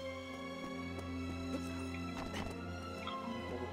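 Horse in the video game Shadow of the Colossus, with hoof clip-clop and a brief whinny over a steady droning game soundtrack, no talking.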